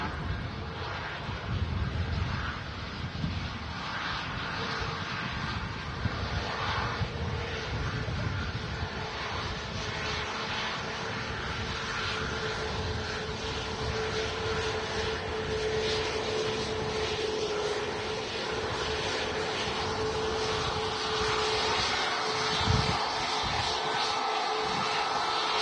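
Ryanair Boeing 737 MAX 200 jet at Manchester Airport, a steady broad roar of jet engines held at a distance across the whole span with wind noise, fairly loud and unchanging.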